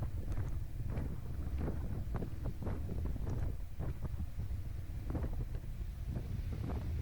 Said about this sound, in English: this was a really, really blowy day, and it was absolutely chucking it down, as you can see.